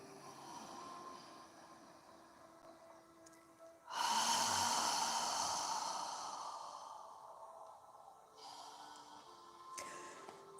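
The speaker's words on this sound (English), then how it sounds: "you exhale, imagine you're fogging a mirror with your breath" A slow, deep exhale during a yoga session, breathy and steady, swelling suddenly and fading over several seconds, with a shorter breath following later over a faint background hum.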